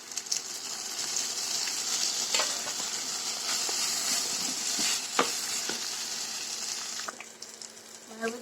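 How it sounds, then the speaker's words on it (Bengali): Onions fry in a pan with a steady hiss and sizzle, broken by occasional scrapes and clinks of a stirring spoon, close up with no talking. "পেঁয়াজটা একটু ভাজা"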